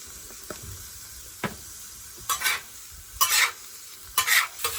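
Onions browning in a hot pan for Philly cheesesteaks, with a steady low sizzle under sharp bursts of loud scraping as a utensil stirs them, including a few brief knocks against the pan.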